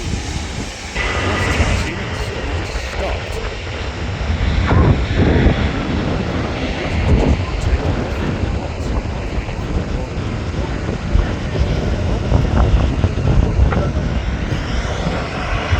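Airbus A350 jet roaring as it accelerates down the runway for takeoff at Manchester Airport, a loud sustained broadband engine rumble with the thrust surging partway through, steady and close throughout.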